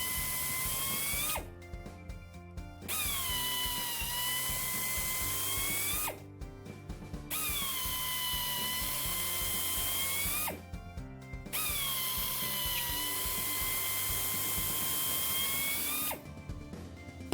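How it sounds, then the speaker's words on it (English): Air drill fitted with a carbide cutter boring through an injury in a truck tire, a whining high-pitched drilling run that stops briefly three times and restarts, close and steady. "Proper drilling with the appropriate size carbide cutter ensures complete damage removal while preventing future injury growth"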